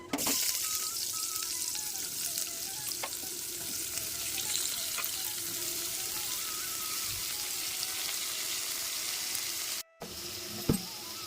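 Dry red chillies and cumin seeds frying in hot coconut oil, a dense continuous sizzle and crackle lasting throughout, close and steady, with a brief cutout and a single clink near the end.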